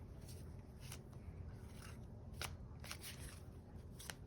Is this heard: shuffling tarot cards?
yes